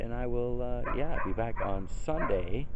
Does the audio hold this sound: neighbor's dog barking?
yes